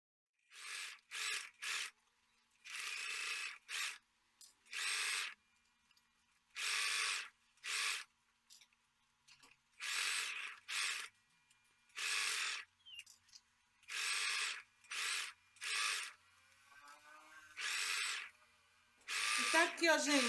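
A Singer Facilita Pro sewing machine stitching along the edge of a fabric piece, running in about a dozen short, loud bursts separated by brief silences, the motor whirring at a steady high speed during each burst.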